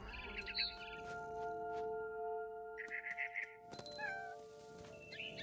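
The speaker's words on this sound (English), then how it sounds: "Then I heard chirping outside my window. It was a barn swallow going back to her nest." A barn swallow chirps in short bright bursts in the game What Remains of Edith Finch, set against a quiet ambient hum with soft tonal background sounds and a few faint thuds.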